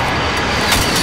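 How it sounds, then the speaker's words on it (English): Precision airstrike aircraft in Call of Duty Modern Warfare, a loud continuous engine roar and whoosh passing close overhead, alone. "Set a precision airstrike over there"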